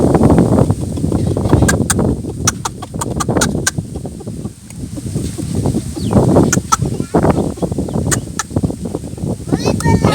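A human voice imitates a hen calling her chicks to food, with rapid, loud, close clucking bursts and sharp clicks repeating in uneven clusters throughout.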